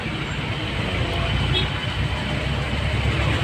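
A jeep ride with a steady, loud engine and road rumble running throughout, low and continuous, with no clear speech over it.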